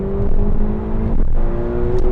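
A McLaren GT supercar with a twin-turbo V8 engine pulls hard under acceleration, its loud steady drone and exhaust note holding close and continuous with a brief dip in the middle.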